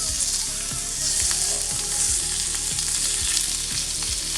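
A Wagyu picanha sears loudly in a very hot pan, an intense close crackling sizzle with rapid popping spatters and no talking.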